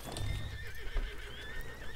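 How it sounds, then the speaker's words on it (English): A horse neighs in Red Dead Online, a short whinny heard close, with hoof clip-clops and outdoor game ambience around it. "how do you feel that my horse is named Gravy"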